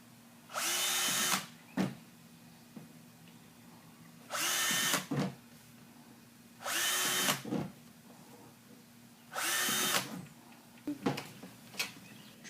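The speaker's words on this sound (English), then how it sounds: "Drilled the holes" A power drill bores ventilation holes in a plastic bin lid, running in four bursts of about a second each with short pauses between, the motor whine rising and dropping off at each stop, close and clear.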